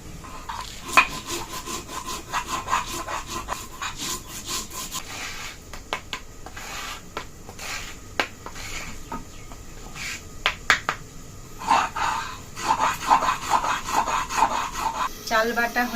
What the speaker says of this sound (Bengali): চালটা আগে থেকে ভিজিয়ে রেখেছিলাম, আতপ চাল, অল্প বেটে নেব।